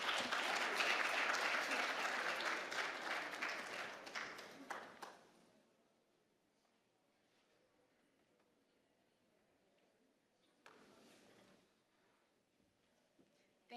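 Conference audience at the Cayman Islands Healthcare Conference applauding to welcome a speaker, dense clapping for about five seconds, then fading out, with a brief second burst of claps later over quiet room tone.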